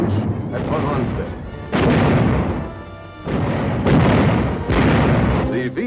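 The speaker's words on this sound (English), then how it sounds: "We helped them hold out until the artillery threw a surprise punch at Von Rundstedt" Artillery fire from a WWII-era film about the VT proximity fuse, heavy booming bursts arriving in loud, rolling waves of roughly two seconds each, with dense rumbling and crashes and no clear gaps between them.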